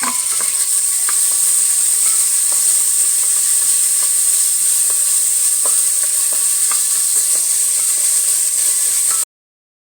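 Tomatoes fry with green chillies and onions in a pan for wheat rava kichadi, giving a steady, loud sizzle and hiss with scattered soft clicks of stirring throughout, no voices.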